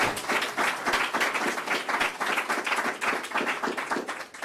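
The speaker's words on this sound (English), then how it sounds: "Let's give him another round of applause to Esteban." An audience gives a round of applause for Esteban at a New York State community schools funding announcement, steady, close and sustained clapping from many hands with little talk.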